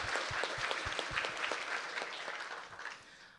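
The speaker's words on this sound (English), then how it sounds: "let's give a round of applause for DigiKey." An audience at the Hackaday Prize award ceremony breaks into steady applause for sponsor DigiKey, a dense wash of clapping that holds for a few seconds and then tapers off.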